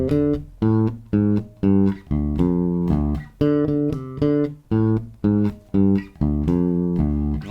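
Bass guitar playing the main riff in the D blues scale, a repeating sequence of plucked, punchy notes with clear attacks and sustained low tones, played alone.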